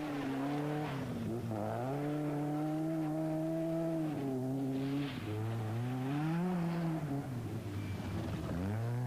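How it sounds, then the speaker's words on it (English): Rear-wheel drive rally car on a snowy stage during a 1986 rally, its engine revving hard with pitch rising and falling through gear changes, moderately close and heard alone. "Now rear-wheel drive, Russell Brooks."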